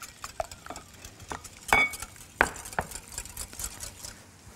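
Cream and salt being mixed by hand in a bowl, with soft irregular scrapes and a couple of sharper clinks of a utensil against the bowl, quiet and close.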